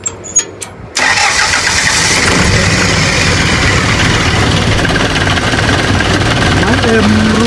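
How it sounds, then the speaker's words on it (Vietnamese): A modified four-engine truck with a five-ton front axle cranks and starts, then settles into a loud, steady, close-up running rumble that continues without a break. "Máy êm luôn nha. Máy móc êm, chưa đổ hơi."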